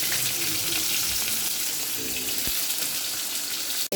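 Papaya and pointed gourd frying in a pan for a Bengali fish curry, a steady close hiss and sizzle of oil that runs throughout and cuts off sharply at the end.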